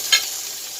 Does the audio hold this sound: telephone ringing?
no